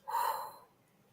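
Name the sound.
breath during a reset breathing exercise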